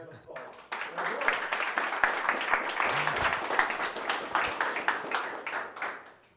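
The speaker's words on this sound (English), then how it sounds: "Everyone, give a round of applause." After a talk at a tech meetup, a small audience claps with distinct, close individual hand claps in an irregular patter that swells and then tapers off. A voice speaks briefly under the clapping.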